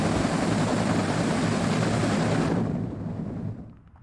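A group of military helicopters in the WARNO war strategy game thunders with a loud, dense rotor roar that holds steady, then thins and fades away over the last seconds.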